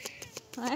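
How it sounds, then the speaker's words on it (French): A pet cat named Starlight gives a drawn-out meow near the end of the moment, following a few brief soft noises and a short spoken word. "Si vous entendez miauler, c'est mon chat."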